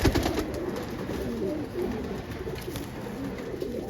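Desi pigeons, red- and black-marked pet birds, cooing steadily up close, their low throaty calls overlapping and continuous with a faint hum behind.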